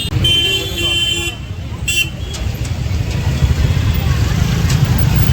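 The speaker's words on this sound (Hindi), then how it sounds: "ये है कैंची धाम की ट्रैफिक।" Road traffic on a hill road at Kainchi Dham, Uttarakhand, rumbles steadily and close, with car horns tooting early on, including a longer honk and brief blasts.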